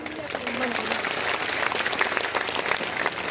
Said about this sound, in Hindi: मैं चाहता हूं कि जोरदार ताली आप लोगों की तरफ होना चाहिए